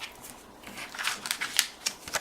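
Washi tape pulled and pressed onto the back of a paper stencil, a series of short crisp crackles and taps, close and moderately loud.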